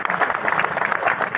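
A crowd at a party workers' gathering in Kukshi claps for the BJP state president, giving a brief, dense burst of steady applause from many hands.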